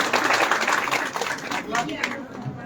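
Sustained, dense applause from an audience at an award ceremony for BC Sakhis at Indira Gandhi Pratishthan in Lucknow, steady and fairly loud throughout, with crowd murmur mixed in.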